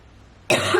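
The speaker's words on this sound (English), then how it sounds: "Like me, like I'm coughing through this reading." A quiet pause, then a single sudden loud cough bursting in near the end, close and harsh.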